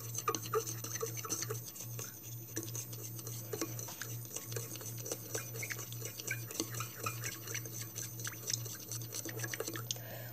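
Steady stirring of a PVA glue mixture for homemade slime, with soft repeated scraping and wet clicking strokes running continuously and fairly close, over a constant low background hum.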